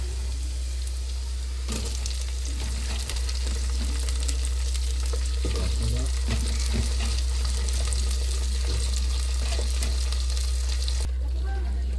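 Green chillies sputtering in hot oil with garlic-ginger paste for a chilli pickle, a loud, continuous sizzle broken by occasional stirring scrapes over a low steady hum.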